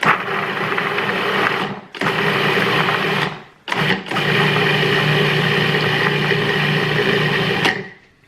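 A food processor whirs loudly and steadily, blending meal-prep ingredients into a paste, running in three long bursts separated by short pauses, close up with no talk.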